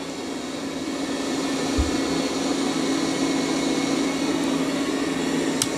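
A Dreame L40 Ultra robot vacuum and mop runs with a steady, even motor whir and hum, constant in level and close by, with no talking.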